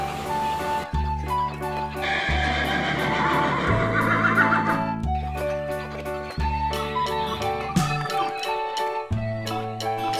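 A toy horse gives an electronic whinny over a bouncy, looping tune with a steady thumping beat, loud and close, with no talking.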